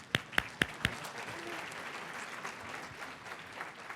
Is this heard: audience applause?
yes